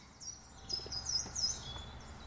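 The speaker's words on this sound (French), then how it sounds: "j'entends un petit oiseau qui est très très courant, qu'on appelle le pouillot véloce" A common chiffchaff sings in short, high chirping phrases that repeat a few times, faint and set against quiet outdoor background noise.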